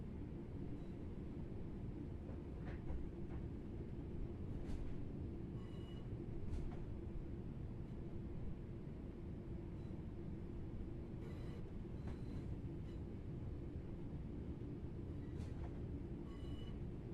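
A train in the video game Train Sim World rumbles steadily at a low pitch, with occasional clanks and metallic clicks over the continuous drone.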